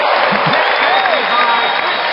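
A large audience at a live podcast event for FDNY Rescue 2's centennial claps and cheers loudly and continuously, a dense wall of applause with a few whoops mixed in.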